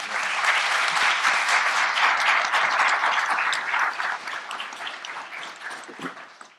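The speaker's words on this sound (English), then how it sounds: "Can we give them a round of applause?" A symposium audience at the University of Virginia gives a round of applause for the organizers, steady dense clapping at moderate loudness that holds for several seconds, then thins and tapers off near the end.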